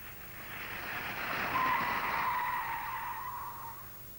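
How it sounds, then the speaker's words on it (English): Car tyres skidding as the wheels lock under sudden braking, one sustained screech that swells to a peak midway and then fades, loud, with no voices over it. "When locking occurs, vehicles have a tendency to skid."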